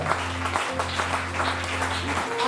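A congregation in church claps steadily and evenly over a low sustained organ or keyboard drone, the applause dense and fairly close throughout.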